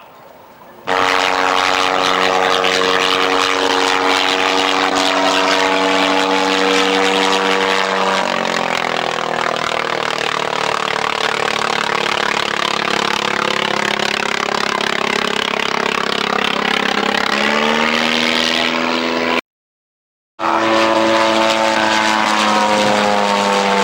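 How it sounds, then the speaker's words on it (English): A 1918-era LVG biplane powered by a Benz Bz4 six-cylinder water-cooled engine drones loudly and steadily overhead at Old Warden, its propeller pitch shifting as it passes, with a brief cut near the end. "A Benz BZ4 six-cylinder water-cooled engine was its power plant."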